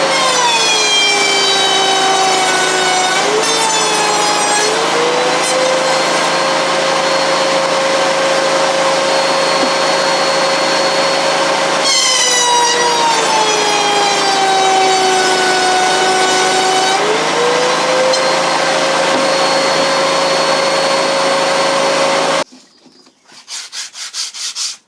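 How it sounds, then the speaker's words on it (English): A router cutting rabbets in an MDF board, a loud, close high-pitched whine with the pitch dipping as each pass bites into the board, two long passes, then the motor cuts off abruptly and spins down. "now we've done all the cutting and all the routering"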